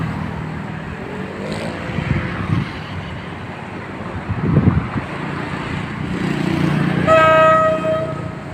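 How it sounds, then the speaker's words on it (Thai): Diesel locomotive horn sounding at Samsen railway station in the morning, a bright tonal blast arriving near the end over rumbling engine and station ambience, with a fainter toot earlier. "เปิดวีดแล้วนะครับ"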